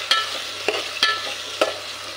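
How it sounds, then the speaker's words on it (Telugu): Potato pieces frying in a pan for a masala curry, stirred with four sharp scraping strokes at a steady pace over a constant sizzle, close and fairly loud, with no talking. "కోసి పెట్టుకున్నాం కదా ఆల్రెడీ బంగాళదుంప ముక్కలు, వాటిని కొంచెం వేపుకుందాము"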